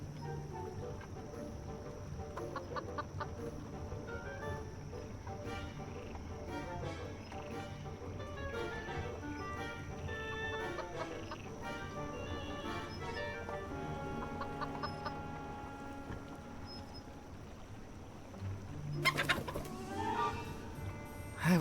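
A curious chicken in the video game Foolish Mortals clucks repeatedly over a steady bed of music, its calls close and continuous, with a louder burst of activity near the end.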